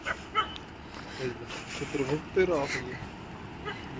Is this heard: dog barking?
yes